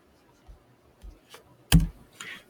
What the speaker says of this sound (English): So let me type in x.